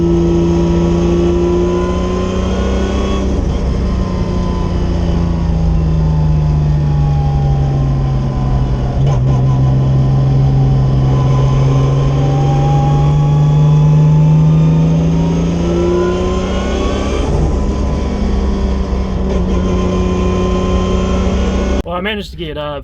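A 7MGTE Toyota Supra with a Samsonas sequential gearbox driving on a track, engine droning loudly and steadily, pitch rising and falling through gear changes, heard from inside the car with a voice talking over it.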